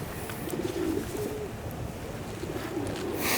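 Racing pigeon cock bird cooing at a loft in Adkins, Texas: soft, low, throaty coos come in short repeated bursts, fairly close, over a steady background hiss with no talk.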